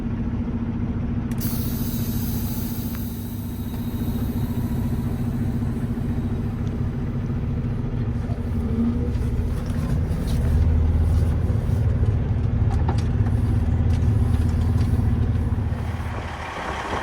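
A truck idles with only half its exhaust fitted, giving a steady, close, deep engine rumble that holds through the whole stretch and swells a little toward the end, with faint clanks and no talking.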